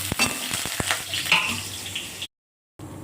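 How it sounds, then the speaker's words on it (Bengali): Boiled greens fry with garlic and dried chili in a pan, giving a steady close sizzle punctuated by a few sharp stirring clinks, then a brief silence before the sizzle resumes more quietly. "শাকটা সিদ্ধ করে নিয়েছি, সিদ্ধ করে রসুন আর শুকনো লঙ্কা দিয়েছি। এটা এবার শাকটা দিয়ে দেবো।"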